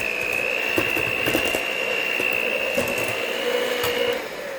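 An electric mixer whirs steadily through rum cake batter as an egg yolk is mixed in, a close high motor whine with light rattling beaters that drops off at the end.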